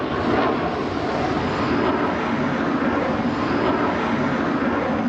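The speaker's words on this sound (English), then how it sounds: "Cheli flaunts the plane's manoeuvrability to the onlookers at this year's Paris Air Show" A Eurofighter jet flies a manoeuvrability display at the Paris Air Show, its engines a broad steady roar that stays loud and constant throughout, with no voices over it.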